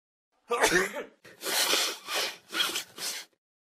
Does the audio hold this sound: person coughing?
yes